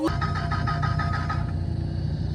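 A supercar's starter cranks in a quick rhythmic burst of about seven pulses, then the engine fails to catch, leaving a low steady drone; close and fairly loud.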